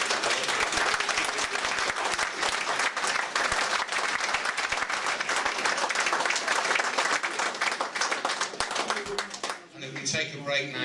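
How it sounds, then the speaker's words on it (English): Loud, sustained audience applause fills a room at a football club fans forum, dense clapping running steadily for about ten seconds before tapering off near the end. "they deserve a round of applause"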